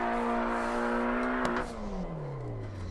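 In a driving video game on a test track, a car engine holds a steady high rev, then a clutch kick drops it into a falling, drawn-out tone that winds steadily down, loud and close with no talk.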